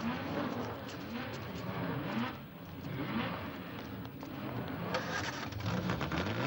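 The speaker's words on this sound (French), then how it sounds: "Écoutez, les moteurs vrombir." Racing car engines rumble and drone continuously at a moderate distance, with a steady low roar that swells slightly toward the end.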